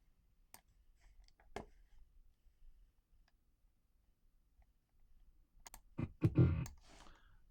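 Sparse mouse clicks on a computer while editing keyframes in DaVinci Resolve, a few isolated sharp taps early on, then a quick louder cluster of clicks and handling near the end, in a quiet room.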